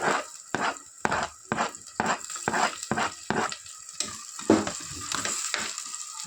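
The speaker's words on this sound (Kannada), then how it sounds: "ಇಲ್ಲಿ ಫ್ರೈ ಆಗ್ತಾ ಉಂಟು. ಇಷ್ಟು ಫ್ರೈ ಆಗಬೇಕು." Food fries and sizzles in a pan as a spoon stirs it in repeated scraping strokes, close and moderately loud, with steady hissing between the strokes.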